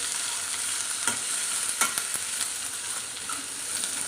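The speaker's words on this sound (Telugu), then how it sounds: "ఇవి కూడా మంచిగా ఫ్రై అయిపోవాలి" Three small chopped onions fry in a pan for a mango curry, giving a dense, steady sizzle with a few stirring clicks, close and unbroken by speech.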